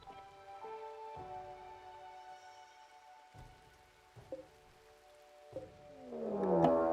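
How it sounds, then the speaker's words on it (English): Foggy rain in the video game RimWorld patters softly and steadily in the background, faint and continuous, with a few low knocks and a swelling noise rising near the end. "We gotta keep in mind we got foggy rain going on."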